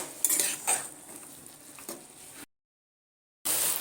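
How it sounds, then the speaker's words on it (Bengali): Chapa note greens being stir-fried in a pan, with soft sizzling and repeated scrapes and clinks of a spatula against the metal, close and fairly quiet, then a sudden gap of silence before the sizzle resumes. "আমি মিনিট পাঁচের সময় নিয়ে কষিয়ে নেব শাকটা"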